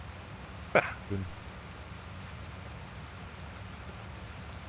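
Steady rain patters in the farming game Landwirtschafts-Simulator 19, a soft continuous hiss, with a short voice and a throat-clear near the start.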